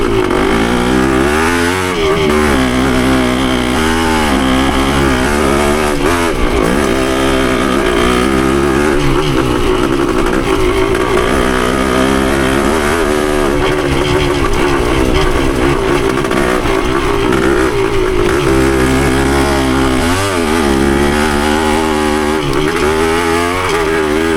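A Yamaha CT3 175 motorcycle engine runs continuously on a ride, loud and close, its revs rising and falling in steady waves throughout with no talk.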